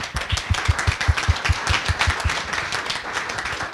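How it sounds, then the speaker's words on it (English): Audience applause at a tech content creation panel honoring event sponsors, a dense steady patter of many hands clapping with distinct thumping beats, sustained at moderate loudness throughout. "So if we can give them all a round of applause."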